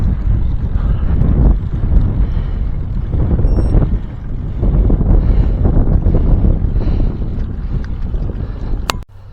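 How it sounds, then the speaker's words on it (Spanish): Strong wind buffets the microphone nonstop at the Alto del Cordal summit after a road-bike climb, a loud, rumbling gusty roar with no one speaking. "Vamos a ver el aire que sopla aquí."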